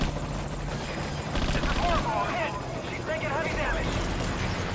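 Helicopter rotor thrumming steadily through the clip in the video game Metal Gear Solid V: Ground Zeroes, loud and continuous beneath excited voices and game noise.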